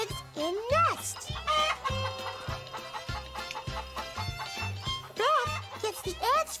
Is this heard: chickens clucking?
yes